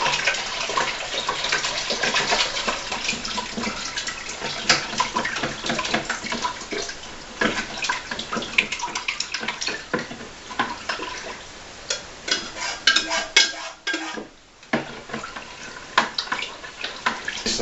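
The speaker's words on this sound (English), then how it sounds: "we're going to just keep stirring it as we add it slowly" Chocolate mixture stirred slowly into cherry wine juice, a continuous wet sloshing and swirling of liquid, close and steady, with a brief lull near the end.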